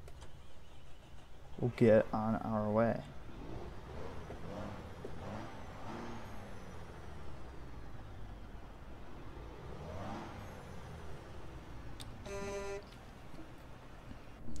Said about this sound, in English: so I'll let you guys listen to the engine right here